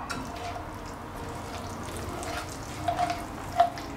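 Pasta and sauce get stirred gently in a hot pan, a soft low sizzle running underneath with a few light scrapes and clinks of the utensil near the end, close and fairly quiet.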